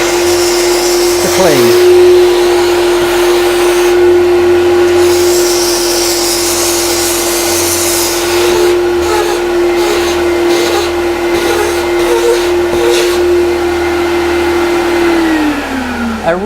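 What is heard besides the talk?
iVo Steam Tekna steam cleaner with vacuum running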